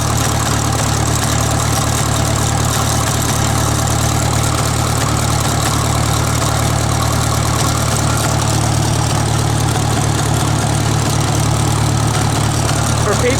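A Farmall MD tractor engine idles steadily throughout, a loud, continuous low rumble with a slightly uneven, occasionally missing beat, heard up close without talk.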